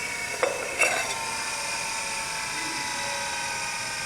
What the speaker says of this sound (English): I can do now is just e-stop it, and you can hear the spindle wind down.